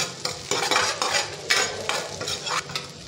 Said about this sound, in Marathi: कांदा असा छान भाजून घ्यायचा.